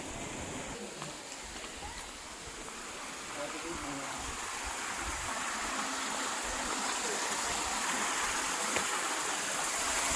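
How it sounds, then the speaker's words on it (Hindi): A waterfall in the rain at Mandu in Madhya Pradesh gives a steady, loud, broadband rush of falling water, continuous and unbroken across the whole stretch. "यहाँ से पानी आके वो नीचे गिर रहा है।"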